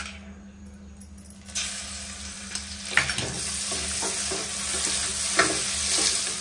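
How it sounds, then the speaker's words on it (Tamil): Cashews and butter stirred into caramelizing sugar in a pan: a steady sizzle with scattered scraping strokes and clicks of the spoon, close by, growing busier after a quiet start. "சேர்த்து நல்லா மிக்ஸ் பண்ணிக்கலாம்"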